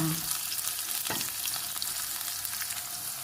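Ginger sizzles steadily in a pan with garlic and onion for a Filipino squash and string bean coconut stew, with a constant hiss of frying and a brief stir, and no voices.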